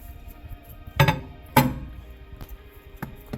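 A bowl of oatmeal swallow set into a microwave gives two sharp ceramic clinks close by, followed by a few faint ticks in a quiet kitchen.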